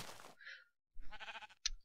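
A Minecraft sheep bleats in short, nasal bursts, one brief cry followed by a longer wavering bleat, close and alone.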